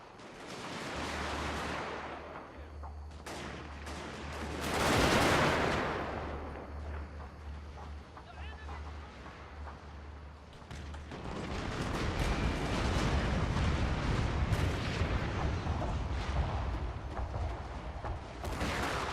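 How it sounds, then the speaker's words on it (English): Artillery fires in a Total War: Fall of the Samurai battle, with a rumbling barrage of booms, a big swell of blasts near the five-second mark and dense overlapping fire building through the second half. "Probably because of the artillery firing at them."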